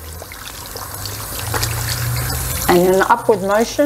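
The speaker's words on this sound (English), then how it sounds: "Here we are now washing" Hands are washed with soap under a running tap, the water trickling and splashing steadily while a person talks over it.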